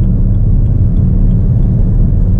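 A car's interior hums with a steady, loud low rumble of engine and road noise while cruising at about 120 km/h in fifth gear.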